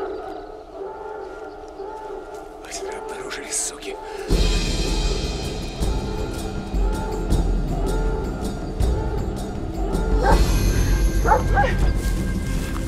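Dogs bark in a tense outdoor chase scene, a burst of barking and yelping rising out of loud rushing noise partway through, with more barks near the end.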